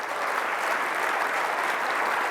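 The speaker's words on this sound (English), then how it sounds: "Everyone, a huge round of applause." An audience at a software conference keynote applauds in a full, continuous wash of clapping that holds at an even, fairly loud level from start to finish.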